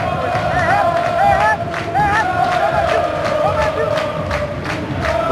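Guarani supporters in a Brazilian football stadium roar as a continuous crowd, with whistles and shouts rising over the steady mass of voices throughout.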